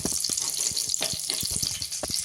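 Butter and a little oil sizzling in a pan before ginger, garlic and onion go in for a carrot, beetroot and tomato soup, a steady close hiss with faint clinks and stirring taps, no talking.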